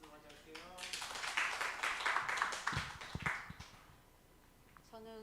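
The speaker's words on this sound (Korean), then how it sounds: "김경수 목사님 박수 맞이할게요" A church congregation claps to welcome a pastor, a steady burst of applause lasting about three seconds that rises and then fades, with someone speaking just before and again right after.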